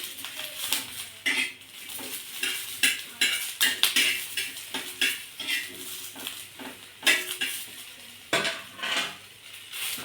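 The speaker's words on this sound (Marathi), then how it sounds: "वांग्याच्या एका साईडने टाकून आपण भाजून घेणार आहोत अगदी थोडंसं तेल टाकून घ्यायचं म्हणजे मिरच्या लवकर भाजल्या जातील" Aubergines and green chillies roast in a little oil in a pan for bharit, with a low sizzle under repeated clinks and scrapes of a utensil turning them.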